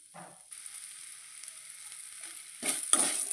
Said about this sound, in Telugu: పచ్చిమిర్చి అవి బాగా వేగాలి.